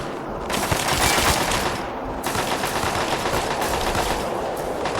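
Dense, rapid crackling bursts of a sci-fi energy barrier, loud and continuous like sustained automatic fire, with a brief dip near two seconds.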